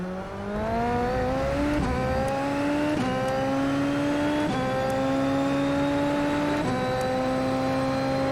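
A Super Formula open-wheel race car laps the Red Bull Ring in the iRacing simulator, its engine screaming loud and steady while rising through the gears, with quick shifts every second or so.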